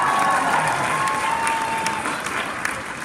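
A convention panel audience applauds at BroadwayCon, a steady crowd clapping wash with a faint voice underneath, holding level for about three seconds and easing slightly at the end.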